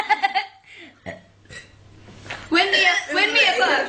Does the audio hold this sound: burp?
yes